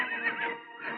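A horse gives a short, high, wavering neigh in a film scene, close and fairly loud with no talk over it.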